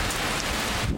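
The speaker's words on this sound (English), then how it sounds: "The rain is letting up a little bit." Steady rain in Montréal, a dense, continuous hiss of drops pattering on surfaces close by, evenly loud through the whole second with no voices.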